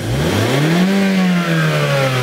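A car engine revs up as the throttle is pressed, its pitch climbing then easing back down as the pedal is released, loud and steady over about two seconds.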